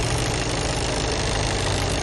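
A car engine idles evenly and steadily throughout, a continuous low rumble close to the listener with no speech.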